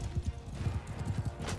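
Horse hooves gallop in Mount & Blade II: Bannerlord, a Khuzait rider's mount giving a steady, loud clip-clop rhythm of repeated low thuds close up, with no talk over it.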